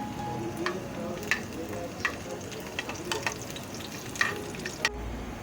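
Quiet sizzling of garlic and red chilies frying in oil, with occasional sharp crackles and pops and a light stirring scrape, no speech.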